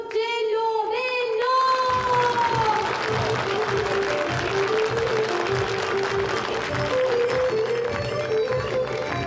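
A crowd breaks into sustained clapping and cheering that continues steadily, with a voice calling out loudly at the start.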